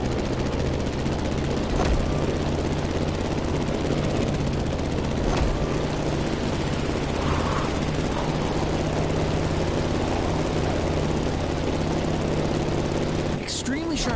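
A steady, droning aircraft engine from the racing game The Crew Motorfest hums loud and unbroken throughout, with a faint whoosh of wind near the end.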